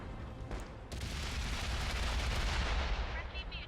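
A loud cannon blast from a Sexton I self-propelled gun in World of Tanks console battle, followed by a sustained rumbling roar of combat noise.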